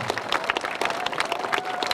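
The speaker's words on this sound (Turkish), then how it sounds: "Onları bir alkışlamanızı istiyorum sizden çocuklar." Children clapping together at a public event in Trabzon in steady, dense applause, fairly close and continuous for a couple of seconds, with no talking over it.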